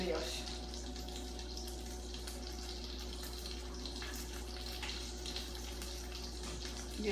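Liquid drains steadily from cooked sausages in a strainer, a continuous close wash of trickling water with a low hum beneath, running evenly throughout.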